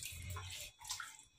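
Water splashing and trickling from a wet cotton t-shirt as it is squeezed and wrung out by hand at home, in two short bursts with no talking.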